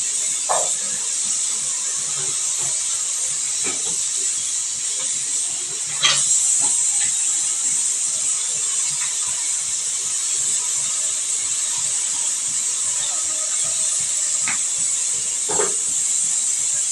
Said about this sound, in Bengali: ওদিকে কুকারটা সিটি মারছে বারবার